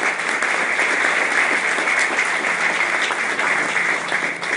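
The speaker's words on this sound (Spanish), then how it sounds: "¿Cuánto le pueden dar un aplauso a ella para que se fortalezca en el Señor?" Church congregation applauding a young female singer, a continuous, even wash of many hands clapping that stays loud and steady throughout with no talk.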